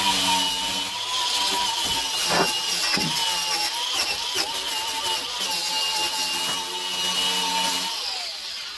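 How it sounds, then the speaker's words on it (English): A steady, loud whirring grind of a wire wheel against the metal floor pan of a Jeep YJ, continuous for several seconds with slight dips in pitch as pressure changes. "clean all this up here with the wire wheel"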